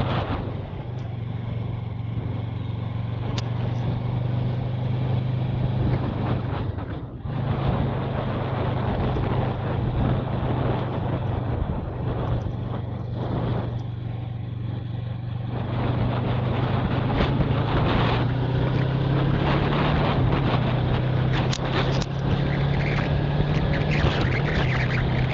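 A Yamaha MT03 motorcycle climbs the Barriga hill, its engine droning steadily under heavy wind buffeting for a long stretch, with the pitch rising near the end as it pulls harder.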